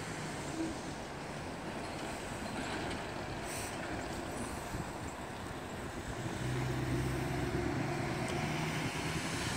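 A Union Pacific Challenger steam train hauling rock quarry cars rumbles past at a distance, a steady low roar with a deeper, heavier tone building in the last few seconds.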